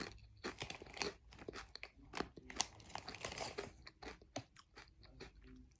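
Salt and vinegar crisps crunched between the teeth, a steady run of close, crisp bites and chewing crackles with no talking.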